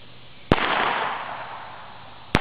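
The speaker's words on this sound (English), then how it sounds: "see if he'll stand there with his head down while he shoot that pistol one time" A single pistol shot fired close to a four-year-old registered Tennessee Walking Horse outdoors: one loud sharp crack followed by a long fading hiss of echo, then a brief second pop at the end.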